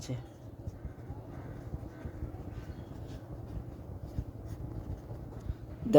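A pen scratches out a math problem on paper in short, quiet strokes, with soft indistinct voices in the background and a louder burst at the very end.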